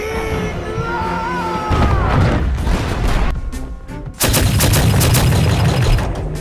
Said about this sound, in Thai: เราสามารถใช้ปืนใหญ่ยิงได้ผม